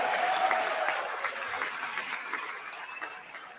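Audience applause in the chamber of Congress during a State of the Union address, a sustained roar of many clapping hands that slowly fades across a few seconds.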